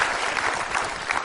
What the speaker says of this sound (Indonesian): Kita beri tepuk tangan Bang Ara.